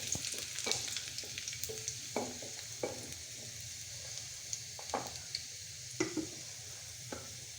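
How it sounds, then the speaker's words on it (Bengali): Bottle gourd frying with garlic in a pan gives off a steady sizzle, broken by repeated scrapes and clinks of a spatula stirring against the pan at close range. "আমি লাউবাজি করতেছি"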